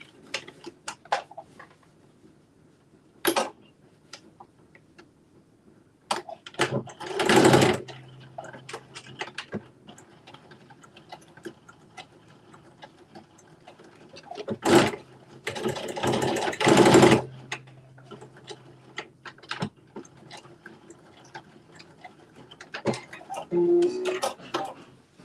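Sewing machine stitching a seam on a Simplicity S9822 garment, in several short bursts of fast whirring, close and clear, separated by quiet gaps with light clicks.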